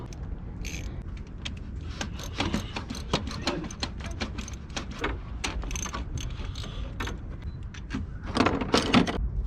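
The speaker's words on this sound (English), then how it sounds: "So just unscrew those bolts." Ratchet wrench working loose the thermostat housing bolts on a Dodge Charger R/T, a dense run of quick metallic clicks with bursts of clattering, close and steady throughout.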